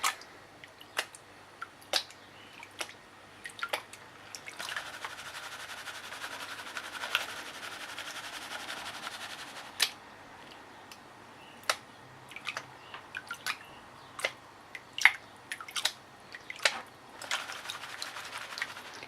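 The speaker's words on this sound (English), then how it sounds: "Get all that nice gold down to the bottom. And we'll start panning it off." Paydirt is panned for gold in water, with sparse, light clicks and rattles of small rocks and gravel shifting in the pan, fairly quiet and irregular.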